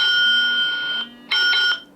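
A phone rings with a bright electronic tone, set off by a budget Zeblaze Btalk Lite smartwatch's find-phone feature, loud and close, cutting briefly before resuming.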